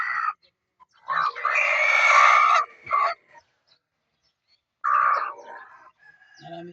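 Rooster named Bitay, a handsome male chicken, crowing loudly and close in short bursts with a long full crow and a later call, separated by silence.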